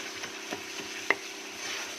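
Masala frying in a pan for rajma kidney bean curry, a soft low sizzle with a few light stirring taps and one sharper clink, quiet and close, no one speaking.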